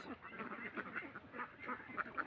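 A flock of ducks on a duck farm quack steadily, many overlapping nasal calls close by and fairly faint, with no talk over them.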